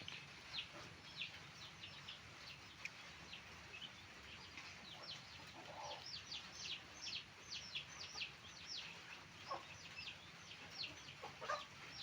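Flock of chickens clucking and calling repeatedly at feeding time, a busy scatter of short bird calls over steady farmyard background noise, moderately close and continuous throughout.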